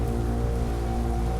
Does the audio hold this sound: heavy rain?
yes